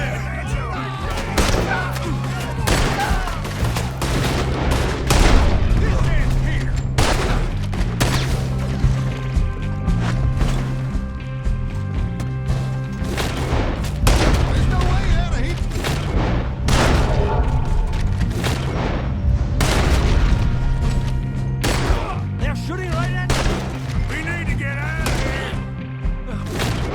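Gunfire in Red Dead Redemption 2 crackles in a steady barrage of shots and thuds over a low music bed, with voices shouting through the fight.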